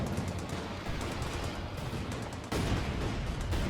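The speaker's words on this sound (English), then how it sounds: "Mortar half-tracks just bombarding the victory point here, trying to tear it apart." Mortar half-tracks shelling a victory point in Company of Heroes 2, with a steady wash of distant gunfire and blasts that jumps louder midway.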